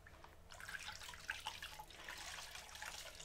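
Water trickling and splashing during a spa treatment, with a steady wet patter and small drips running continuously at a soft, close level.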